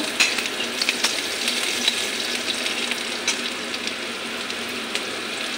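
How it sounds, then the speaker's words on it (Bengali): Chopped onion frying in a pan over whole cumin, dry red chilli and bay leaf, with a constant close sizzle and repeated scraping, clinking stirring strokes on top, no speech. "পেঁয়াজটা হালকা একটু ভাজা হয়ে যাক"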